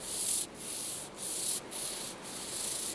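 A fingertip rubs back and forth over the textured carbon fiber handle of a Spyderco Gale knife, giving a close, steady rasping scratch in about five strokes, each stroke broken by a short pause.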